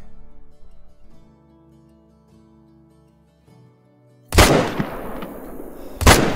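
In the hunting game Call of the Wild, a rifle fires at a bison: a sharp, loud single shot with a rolling echo, followed by a second blast about two seconds later, after quiet ambient music.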